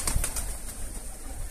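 Pigeons close by, with a few soft wing-flap bursts and low cooing over a steady outdoor hiss, no voices.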